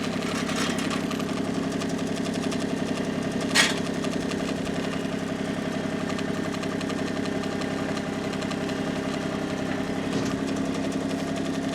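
A John Deere tractor with a front-mount PTO snowblower runs steadily while backing up, its mid-pitched engine droning close and constant for the whole stretch, with one brief sharp clank partway through and no speech.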